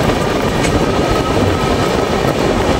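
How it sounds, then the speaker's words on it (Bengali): An empty train rolls past close by near a rail yard where locomotives are kept, making a loud, steady rumbling roar that holds throughout with no speech. "খালি ট্রেন যাচ্ছে।"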